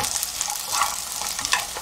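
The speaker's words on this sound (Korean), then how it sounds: "갈치가 전체적으로요, 고소한 맛이 돌 때까지 볶아줄게요." Dried hairtail fish stir-fried in oil with garlic, a dense steady sizzle with scraping stir strokes and crackles throughout, close and alone.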